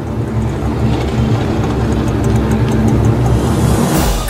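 A car engine runs steadily and loudly throughout, a continuous low rumble with slight surges, close by and without talk.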